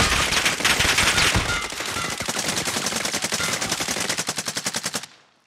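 Rapid automatic gunfire from a Call of Duty Warzone match, loud and sustained, with bursts turning into a steady fast rhythm of shots before cutting off abruptly near the end.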